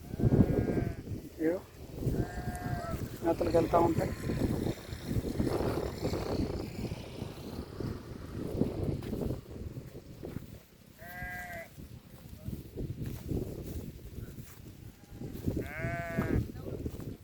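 Sheep on a grazing run bleat in several separate calls, some near and some a little farther off, over a low outdoor background while someone talks throughout.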